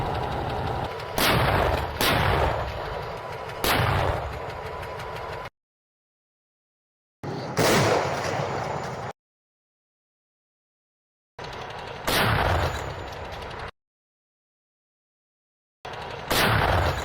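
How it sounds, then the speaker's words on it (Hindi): Artillery fire and gunfire in war footage from the Russia conflict, loud repeated blasts and shots in several bursts separated by silent gaps, with no talk. "तोप दाग रहा है, आर्टिलरी दाग रहा है।"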